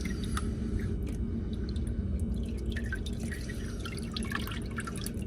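Used engine oil from an old filter on a Vauxhall Astra K drains into a bucket as a steady close dripping and trickling, continuous and fairly quiet with no talk.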